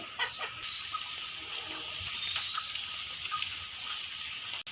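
A broody black country hen clucks in short, soft bursts close by, over a steady background hiss, with no talking.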